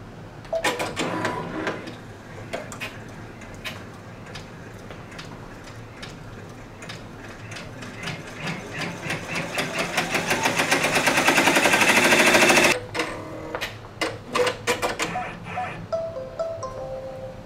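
A multi-needle embroidery machine stitches a quilt block with rapid, steady mechanical ticking that grows louder and denser, then cuts off abruptly, leaving a few scattered clicks and knocks.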